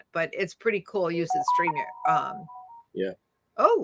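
A phone rings during a live online campfire chat, a steady electronic chime tone sounding clearly beneath and between people talking.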